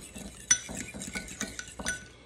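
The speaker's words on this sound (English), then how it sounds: "this is the cream cheese and butter, and I'm just stirring it together" Cream cheese and butter being stirred together in a bowl with a utensil, giving light clinks and scrapes against the bowl at an irregular pace, close by, with no talking.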